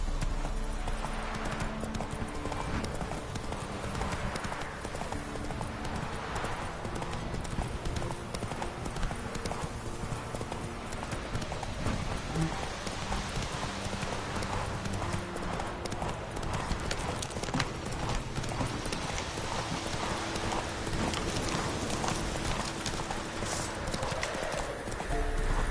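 Geralt's horse Roach gallops in The Witcher 3 with continuous rhythmic hoofbeats, an occasional whinny, and dense game ambience and music underneath. The sound stays loud and steady throughout.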